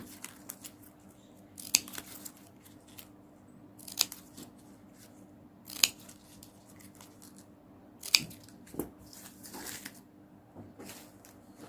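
Scissors snipping the loose end of a ribbon while making a folded ribbon coin garland. Four crisp, close cuts land at roughly even intervals of about two seconds, with quiet rustling of the ribbon between them.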